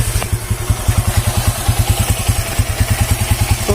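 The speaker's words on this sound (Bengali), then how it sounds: "ইঞ্জিনের সাউন্ড কিন্তু একদম স্মুথ, খুব সুন্দর চলছে" A Bajaj Platina motorcycle engine idles close by with a steady, fast, even thumping pulse and a light mechanical clatter, with no talking.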